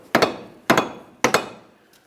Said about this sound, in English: For this, I'm using a rubber mallet.